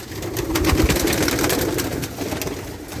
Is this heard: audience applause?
no